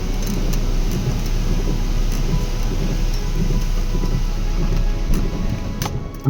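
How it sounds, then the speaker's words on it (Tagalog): Typhoon Sinlaku batters Tinian Island with strong wind and heavy rain, a loud, continuous roar of gusts and downpour with low rumble, steady throughout and without speech. "bigla na lang lumakas ang hangin at lumakas na din ang buhos ng ulan"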